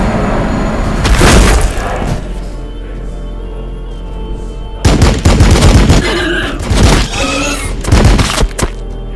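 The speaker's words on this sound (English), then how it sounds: "Firing on the enemy." Units firing on the enemy in Warhammer 40,000: Battlesector, a loud burst of gunfire early on, a quieter lull, then repeated heavy volleys of booming, cracking shots in the second half.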